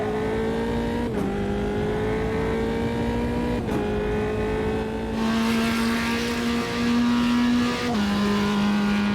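Formula 3 race car engine in a racing sim game, a sustained near, loud droning note that dips briefly at each gear shift, three shifts heard, with no talking.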